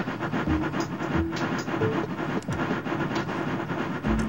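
Trains rolling through Railway Valley, a steady rumbling clatter of wheels with faint tonal squeals and occasional knocks, continuous and fairly loud throughout.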